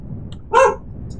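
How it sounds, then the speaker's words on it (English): A single short dog bark rings out from a distance over quiet room noise, with no talk. "apologize for a dog barking in the background"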